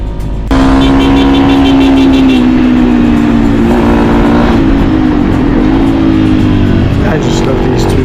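A Yamaha XT250 motorbike rides twisting mountain roads in Morocco, its engine holding a loud, close, steady drone with slight pitch shifts throughout, plus wind rush.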